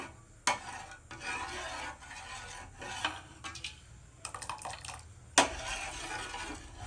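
A spoon scrapes and swishes through curdling milk in a pot while making paneer, in uneven strokes with a few sharper knocks against the side.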